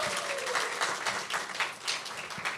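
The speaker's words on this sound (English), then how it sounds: "So another round of applause for both the Nepali New Year and the Bangla New Year." An audience at a university student talent and identities showcase applauds for Nepali and Bangla New Year, a brief dense burst of clapping heard close.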